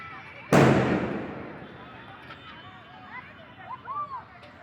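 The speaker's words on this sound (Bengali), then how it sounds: "আতসবাজি ফুটাচ্ছে" One loud firework booms outside at night, its blast decaying over a second or two, followed by faint whistling and crackling from more fireworks in the distance, with voices nearby.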